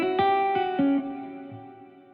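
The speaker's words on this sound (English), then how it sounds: "it's almost sound like a little delay, but it's kind of got a little cloud going on there" Guitar notes plucked one after another through a large cloud reverb preset in Ableton Live, each attack spreading into a shimmering, delay-like wash that rings out and slowly fades.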